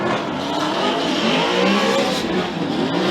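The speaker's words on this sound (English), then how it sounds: "Nice job by both these gentlemen, drifting through the finish line." Drift cars sliding through the finish line at a Formula Drift competition in Palm Beach, a loud continuous roar of engines with squealing tires that fills the whole stretch.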